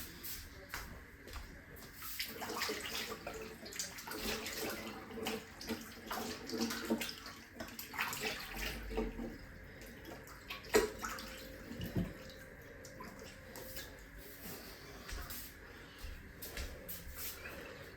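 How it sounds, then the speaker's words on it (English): Running tap water flows while someone washes their hands in a home kitchen during sourdough baking, a close steady splash with shifting gurgles, occasional knocks and handling clatter, faint and with no talking. "I need to wash my hands."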